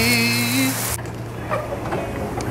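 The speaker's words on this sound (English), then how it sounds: "It's been raining for days." Steady rain falls through a broad hiss with scattered drop impacts, following a brief stretch of tonal background sound that cuts off abruptly; no voices.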